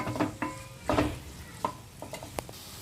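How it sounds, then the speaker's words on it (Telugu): Chopped onions and green chilli pieces frying in a few spoons of oil, with soft stirring scrapes and clinks of a spoon against the pan over a low, steady sizzle. "మనం కట్ చేసిన ఆనియన్స్, కట్ చేసిన పచ్చిమిరపకాయ ముక్కలు ఇవి వేయించుకోవాలి."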